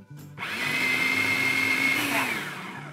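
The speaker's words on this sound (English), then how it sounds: "And you want to blend this really well" A blender whirs steadily as it purees raw pecan pie filling with water, a loud continuous motor drone starting after a brief pause and holding even to the end, with a slight pitch shift near the finish.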